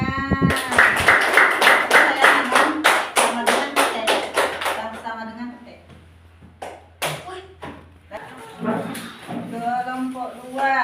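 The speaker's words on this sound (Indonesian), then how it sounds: "Oke, tepuk tangan." A classroom group claps in quick unison in a rhythmic burst of about a dozen sharp claps, then fades into scattered taps and talking voices.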